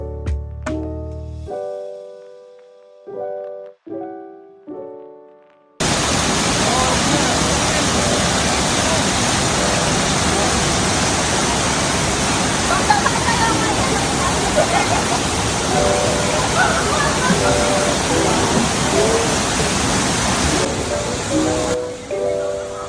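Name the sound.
waterfall at MICS Beach Resort, Dinggalan, Aurora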